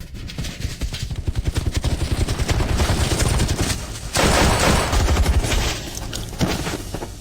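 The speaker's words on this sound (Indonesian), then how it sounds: "tembakan mereka sangat kuat" Heavy gunfire in an action film scene: loud, rapid machine-gun bursts rattle continuously, with a brief pause before another dense volley of shots and booms.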